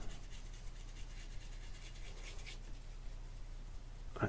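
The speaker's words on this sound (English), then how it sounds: "What I'm going to do is dry brush" A paintbrush dry-brushes paint onto a golf ball, a soft continuous rubbing scratch with faint rhythmic strokes, close and quiet, ending in a brief sharper knock.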